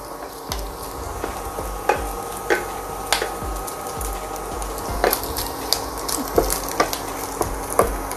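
Garlic frying with bacon in a pan, a steady sizzle broken by sharp crackles and pops, close and fairly loud.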